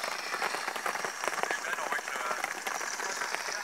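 Steady rain patters on a bivouac camp in the woods, a dense close hiss of drops with scattered sharper taps, continuous throughout.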